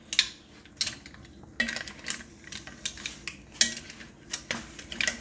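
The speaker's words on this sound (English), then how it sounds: "I'm going to stir that all together" A utensil scrapes and clinks against a pot of mussels and broth in repeated uneven strokes, close and fairly crisp, with no talking.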